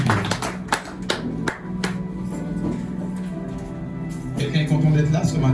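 A church congregation applauding God during a French-language Sunday service, with dense, close hand-clapping that fades out midway before a few scattered claps return, and voices and murmuring under it.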